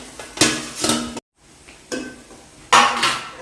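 Cooked rice being added to a pan of fried egg, with several loud metallic scrapes and clanks of a utensil against the pan separated by short pauses, no talking.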